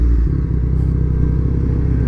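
A motorcycle ridden along a rural road at harvest time, its engine droning steadily and close throughout with a low rumble and faint rattle, no voices.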